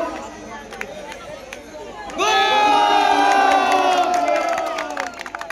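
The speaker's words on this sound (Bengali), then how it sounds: "সবাই জোরে করতালি দেবেন ওনার জন্য।" A crowd at a political rally erupts into loud clapping and cheering after an announcement over a public address, with shouting voices swelling suddenly and holding before tapering off.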